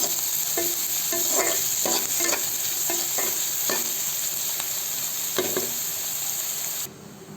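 Onions frying in a pan for a chicken gravy, a constant crackling sizzle with rhythmic scraping stirs of a spoon, until the sizzle suddenly drops in level near the end.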